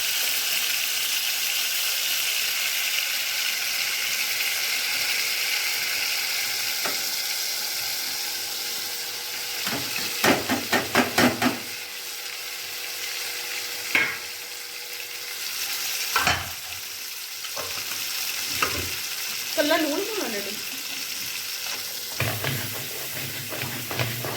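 Lemons and spices for a homemade pickle fry in oil with a continuous close sizzle, broken by several sharp spoon scrapes and clatters of stirring in the pan, with no talking.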